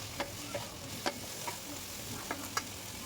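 Chopped carrot, capsicum, beans, onion and chilli frying in a pan for chicken soup, a soft steady sizzle broken by a few sharp utensil clinks and stirring knocks, close and fairly quiet.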